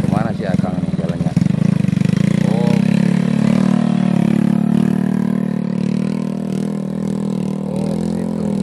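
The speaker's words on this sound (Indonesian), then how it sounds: "Oh, kalau ini sih motor pakai rantai nih." A motorcycle fitted with tyre chains rumbles past on a rough, muddy road, a loud continuous low engine drone close by with rattling and clatter, while people talk over it.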